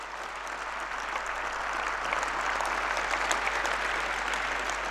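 Seminar audience clapping loudly, a dense, sustained wash of many hands that swells slightly and holds steady for several seconds, with no voices standing out.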